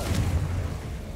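A single short Confringo fire blast in Hogwarts Legacy, a low muffled boom that fades quickly, moderately loud with no voices.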